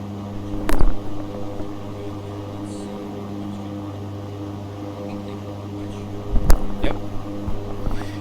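Steady aircraft engine drone from the X-Plane 11 flight simulator, a constant low hum with harmonic tones holding throughout, broken by a couple of brief louder thumps near the start and again late.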